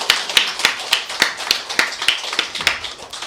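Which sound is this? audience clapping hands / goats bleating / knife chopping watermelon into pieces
audience clapping hands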